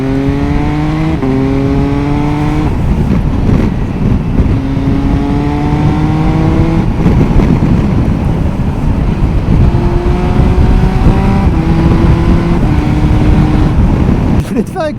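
MV Agusta 900 Veloce three-cylinder motorcycle engine pulling hard through quick-shifted gear changes, loud and close, with stepped rising engine tones and brief breaks between gears over steady wind and road roar.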